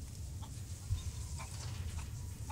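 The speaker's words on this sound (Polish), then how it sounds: "A ja słyszę też jakieś kury tutaj." Chickens clucking in the video game Resident Evil Village, a few short, soft clucks spaced apart over a low, steady ambient rumble, sounding somewhat distant.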